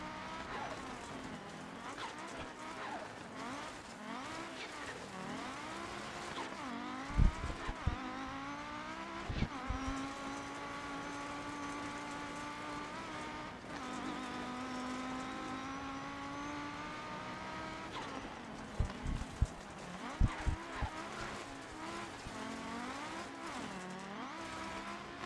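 A turbocharged car labouring up a steep mountain hill climb, its engine bogging at high elevation, with long rising and falling drones as it revs through gears, occasional sharp knocks and tyre noise, steady and fairly close.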